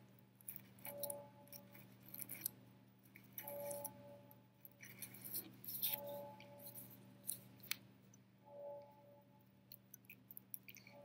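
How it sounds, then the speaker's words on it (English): An X-Acto knife cuts a notch in a piece of craft material, producing a series of soft, crisp scraping and clicking strokes at irregular intervals over a low steady hum, close and fairly quiet. "I'm just using my X-Acto knife because it's easier."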